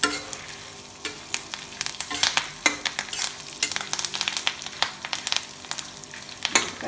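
Coriander seeds, cumin, mustard seeds and curry leaves frying in hot oil for a black gram chutney tempering, a dense, close crackle of rapid pops and spits over a constant sizzle.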